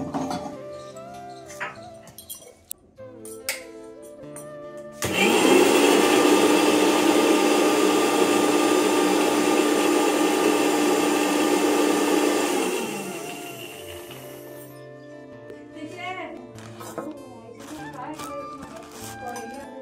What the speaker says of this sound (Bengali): মিক্সিতে মশলাটা করে নিলাম।